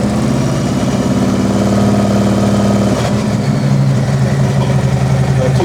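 A car engine fitted with a D&D Billet aftermarket cat exhaust runs steadily near the microphone, a low droning idle that lifts slightly around the midpoint as light throttle brings it up toward 2,000 RPM, loud and continuous with no talking.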